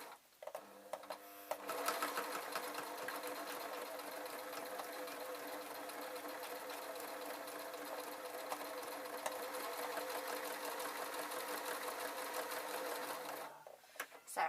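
A sewing machine runs steadily, stitching back over the strap of a fabric scissor case. A short start is followed by about twelve seconds of continuous close mechanical whirring, then it stops.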